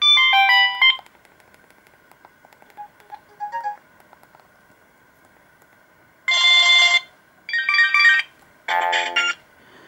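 A bright electronic phone melody plays in short beeping bursts, with a faint steady tone between them, near and fairly loud.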